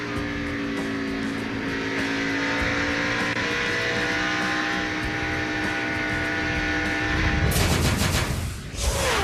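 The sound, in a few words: race trucks crashing during a NASCAR Craftsman Truck Series race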